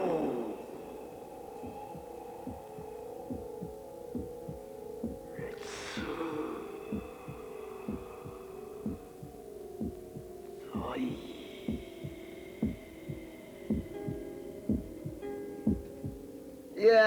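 Heartbeat sensor output: a steady, regular low thumping pulse over a constant electronic hum, with brief rising whooshes breaking in partway through and no talking.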